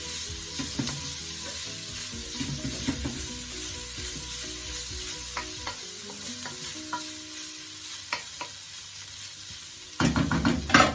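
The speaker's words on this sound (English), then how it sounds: "Stir that saltfish around in the seasoning." Saltfish sizzles in curry seasoning in a pan while a utensil stirs it, with steady frying hiss, scraping strokes, and a louder burst near the end, no voices.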